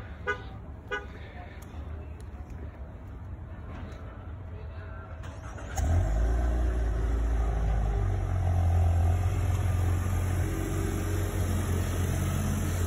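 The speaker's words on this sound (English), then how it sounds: "remote engine start" A 2020 Nissan Altima SR is started by remote; about midway through, the engine catches and settles into a steady, low idle rumble that continues to the end, with faint outdoor ambience before it.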